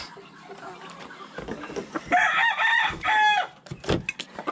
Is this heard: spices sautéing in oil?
no